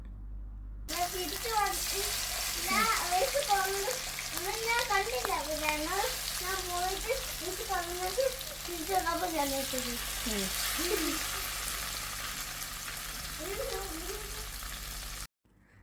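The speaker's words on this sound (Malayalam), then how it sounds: "ചൂടായ വെളിച്ചെണ്ണയിലേക്ക് നമ്മുടെ മത്തി ഇട്ട് കൊടുത്ത് ദേ പൊരിച്ചെടുത്തുകൊണ്ടിരിക്കുകയാണ്" Sardines fry in hot coconut oil with a continuous crackling sizzle that runs beneath a person talking.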